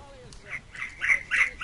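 A bird in the video game Skyrim gives several harsh squawks, a few short cries rising in a quick rhythm at moderate loudness, with a faint background hum and no talking.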